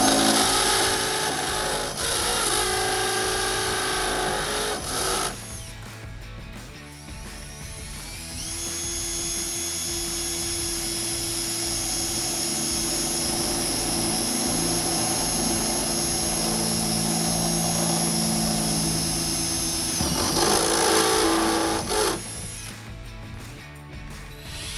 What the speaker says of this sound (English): We're going to be drilling the 3/8.